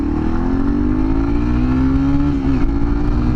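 Stock exhaust on a motorcycle revving steadily and close, a rising engine drone that holds for a few seconds before briefly dropping, ridden outdoors in strong wind.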